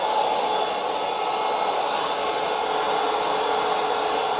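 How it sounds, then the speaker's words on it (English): A heat gun runs on its high setting, a steady, loud, unbroken blowing roar from start to finish with no talking, during work on an ultra short scale bass guitar build. "get my heat gun"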